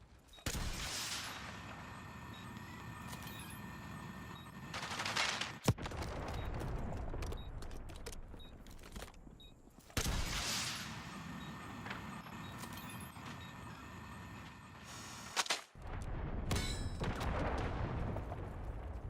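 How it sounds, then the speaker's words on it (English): Archangel weapon firing in a shooter video game, with loud sustained bursts of gunfire in three long volleys separated by short gaps, close and heavy. "Firing Archangel."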